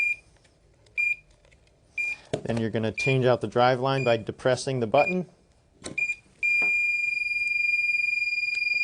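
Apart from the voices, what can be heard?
medical device controller alarm during battery changeover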